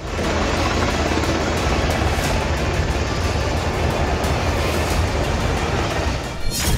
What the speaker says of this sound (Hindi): ये इजरायली सेना के हेलीकॉप्टर हैं जो गाजा पट्टी से लौट रहे हैं